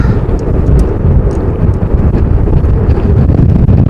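Strong wind buffeting the microphone at an outdoor plane spotting spot beside Amsterdam airport in stormy weather, a loud, continuous low roar with no breaks.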